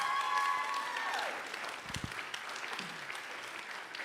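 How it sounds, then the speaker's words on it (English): An audience at a commission candidates' event gives a short round of applause, dense clapping that is loudest at the start and then thins out. "Please give a round of applause to all the commission candidates."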